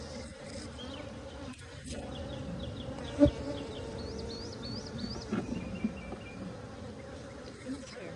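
Honeybees hum and buzz densely around a hive, bearding at the entrance, a close, continuous drone with a few individual bees whining past nearby.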